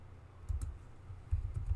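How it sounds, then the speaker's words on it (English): A short burst of keystrokes as a Python command is typed on a computer keyboard, soft close clicks in two quick clusters with a low hum beneath. "So I will type Python command like python main.py"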